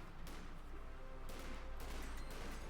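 MG34 machine gun fire in Company of Heroes 2 bursts out amid broader battlefield gunfire and explosions, a dense, continuous clatter of shots at moderate distance, with no voices.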